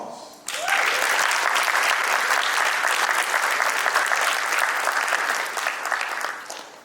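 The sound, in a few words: audience round of applause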